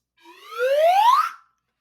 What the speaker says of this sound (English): Blow the whistle to summon the dogs.